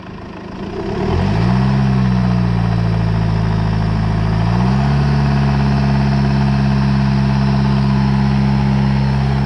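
A Ulysse van engine with a newly fitted turbo idles, then climbs to a raised rev, settles briefly and rises again to a steady, loud, close drone.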